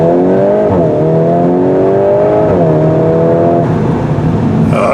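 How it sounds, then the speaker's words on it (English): A 2025 VW Golf R engine pulls hard under throttle, its steady droning tone climbing in pitch, dipping as the gears change, then rising again, loud and close throughout, with no talking. "You press the throttle down, this thing's a real beast"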